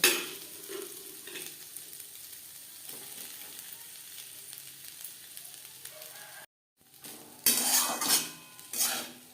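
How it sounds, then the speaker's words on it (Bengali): Leftover rice mixed with winter vegetables stirred in a pan for fried rice, a low sizzle under scraping spatula strokes that grow louder and clattery toward the end after a brief pause. "ভাতগুলো বেঁচে গেছিলো সবজির সাথে ভাত বেশ ভালো করে মিক্সড করে দেবো"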